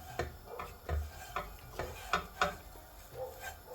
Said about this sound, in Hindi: हमने अच्छी तरह से इसको चीनी और ये जो पाउडर है इसको इस तरह से मिक्स कर लेना है इस सवैयों में।